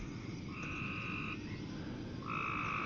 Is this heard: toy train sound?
no